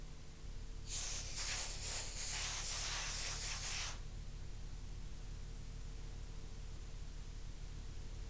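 Compressed air blasts excess silicone off a dental model, making a steady loud hiss of about three seconds that then cuts off, leaving a quiet room hum.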